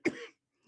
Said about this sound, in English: I do apologise for this coughing